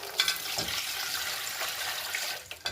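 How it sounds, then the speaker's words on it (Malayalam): Water is poured into arrowroot powder in a bowl for a Thiruvathira arrowroot pudding, giving a steady, close splashing pour for a few seconds with no speech. "അതിൽ വെള്ളം ഒഴിച്ച് നന്നായി കലക്കണം"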